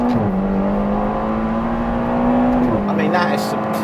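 A Ferrari Portofino accelerates hard, its engine note holding a steady climb, dropping briefly at a gear change, then pulling again, loud and close.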